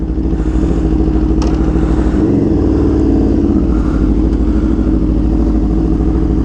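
A modified Aprilia superbike engine drones loud and steady while the bike is ridden, with a constant close rumble and a faint mechanical clatter over it and no talking.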